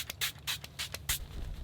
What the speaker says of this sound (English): We're using the Mix and Fix 2 Makeup Setting Spray Long Lasting.